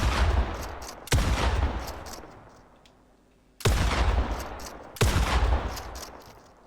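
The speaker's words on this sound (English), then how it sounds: "SMG." SMG gunfire in the video game Fortnite comes as several sharp bursts of shots with echoing decays between them, loud and close, with no talk.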